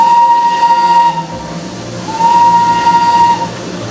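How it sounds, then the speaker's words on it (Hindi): The Darjeeling mountain train blows a loud, near steam whistle twice as a sustained pure tone, the first for about a second and the second for about a second and a half. A steady rumble of the running train sits underneath. "और क्या पता ये ट्रेन आपके साथ साथ ही चलने लगे।"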